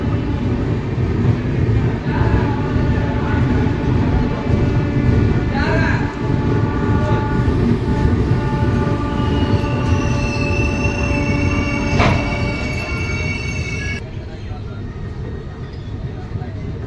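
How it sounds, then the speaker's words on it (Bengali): The Rupasi Bangla Express pulls slowly out of Adra Junction on a curve, wheels squealing in high sustained tones over a heavy, continuous rumble of rolling railcars. "খুব সুন্দর একটা কার্ভ নিয়ে ট্রেন ধীরে ধীরে আদ্রা জংশন ছেড়ে বেরিয়ে যাচ্ছে"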